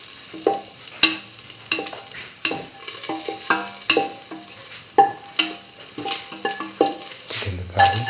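Ginger and salt sizzle in a hot pan as a utensil stirs them, with regular scraping strokes and clinks against the metal over a constant frying hiss, close and fairly loud.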